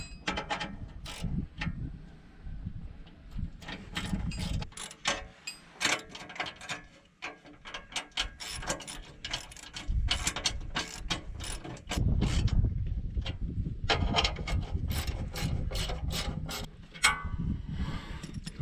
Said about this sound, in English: I'll get the socket and wrench,